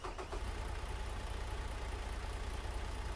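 A Cummins diesel truck engine idling in American Truck Simulator, a low, steady rumble with a faint rattle at the start, quiet and unbroken, with no voices.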